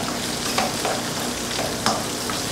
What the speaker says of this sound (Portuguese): E agora vamos dar uma fritadinha boa nessa linguiça também